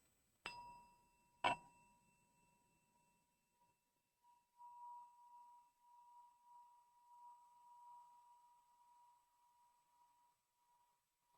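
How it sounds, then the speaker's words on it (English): Chime rung during a worship service: two clear metallic strikes about a second apart, each leaving a long, pure ringing tone that slowly fades in a quiet room, with no talking. "As we listen to the chime"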